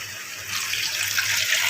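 Water pours in a steady rushing stream into a cooking pot while making jackfruit biryani, growing a little louder as it flows, close by and with nobody speaking.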